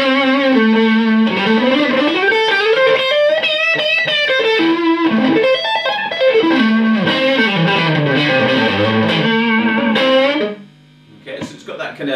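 An electric guitar on its single-coil pickup plays through a Soldano Astroverb 16 1x12 combo amp, giving a loud, driven run of sustained notes and chords that stops abruptly near the end, with no talking.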